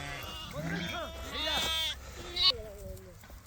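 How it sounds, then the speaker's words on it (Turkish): Several sheep and their lambs bleat in a row, wavering calls overlapping close by, with a higher-pitched lamb cry near the end and low background noise. "Maşallah koyunlardır, maşallah da kuzuları var."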